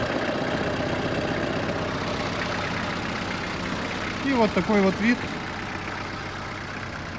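A steady, rumbling diesel engine of a Kubota GT3 tractor with 465 operating hours idling close by, a constant low chugging throughout, with someone briefly speaking over it near the end.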